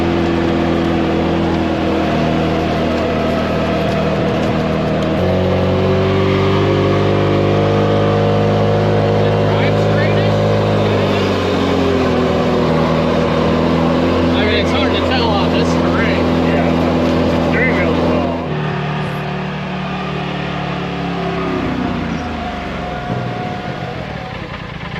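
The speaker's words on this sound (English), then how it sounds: "So this is the first time the machine's really been driven since doing all the work." A Polaris RZR Pro XP side-by-side with newly installed O.R.B. suspension and Keller ball joints drives close by, its engine droning loudly and shifting pitch as it revs up and settles throughout.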